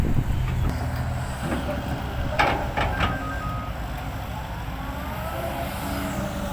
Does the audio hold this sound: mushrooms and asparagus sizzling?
no